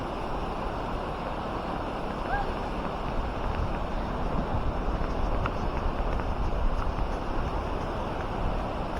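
A strong, dangerous current in a flooded river after heavy rain and landslides sends up a steady, rushing roar with low rumble and some wind buffeting.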